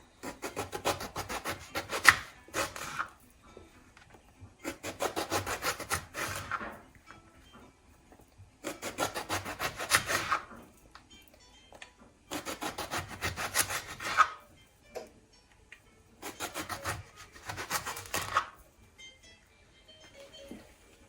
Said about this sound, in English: I'm going to cut it into 1/2 inch disc like this